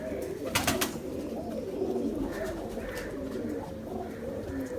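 Ferozpuri racing pigeons cooing in a loft, repeated soft throaty coos over a few seconds with a sharp flutter or clap early on, close and moderately quiet.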